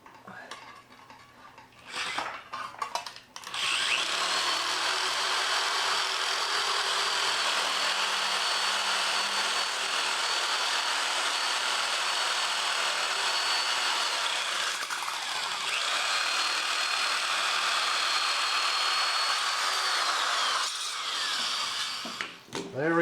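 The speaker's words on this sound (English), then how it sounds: "cheat and use the power shear to trim this to size" A power shear trims sheet metal for body repair on a 2001 Chevy 2500HD truck, giving a loud, steady high-pitched buzzing cut that runs for nearly twenty seconds after a few short clanks at the start.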